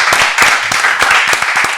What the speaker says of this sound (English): Let's give a hand clap to BB.